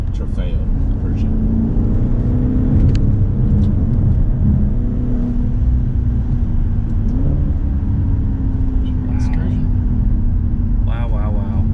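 Maserati Levante Trofeo V8 SUV engine hums and drones steadily from inside the cabin, with a loud low rumble throughout and a brief rise in pitch partway, while a person talks over it.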